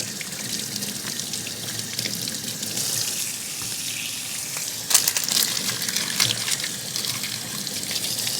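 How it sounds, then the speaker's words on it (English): Running tap water in a kitchen sink as onions are rinsed one at a time for canning onion broth, a steady loud splashing hiss with a brief sharper splash partway through. "just going to take them one at a time over here under my water and just wash off the top layer"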